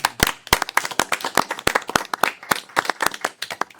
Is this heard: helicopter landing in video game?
no